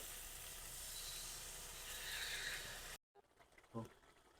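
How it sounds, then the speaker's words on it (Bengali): Water is poured into a pan of sautéed potatoes for an egg and masoor dal dish, raising a loud, steady sizzling hiss for about three seconds before it cuts off to quieter kitchen sounds. "তো আলুটা কষানো হয়ে গিয়েছে, এখন জল দিয়ে দেব।"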